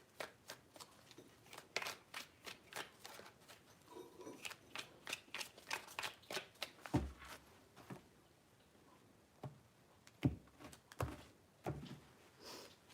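Quiet, rapid riffling and soft slaps of tarot cards being shuffled in several bursts, close by, with occasional thumps as the deck is squared.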